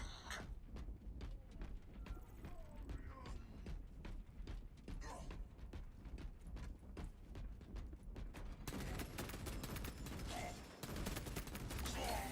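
Dense game gunfire from Arc Raiders, with scattered shots and bursts crackling continuously over a busy mix of mechanical noise, growing louder and fuller toward the end.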